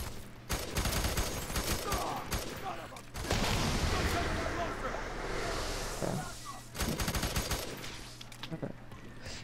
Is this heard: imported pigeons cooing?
no